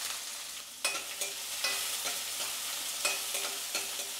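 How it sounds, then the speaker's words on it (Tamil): Chopped onion sizzles in oil in a pan, cooked after garlic for a bitter gourd kuzhambu, with a constant soft frying hiss broken by several sharp scraping stirs of a spoon. "இப்போ வெங்காயம் நல்லா வதங்கட்டும்."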